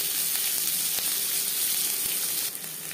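Chopped onion fries in hot mustard oil with a close, dense, even sizzle and a few faint utensil ticks, easing slightly in loudness near the end; no voices.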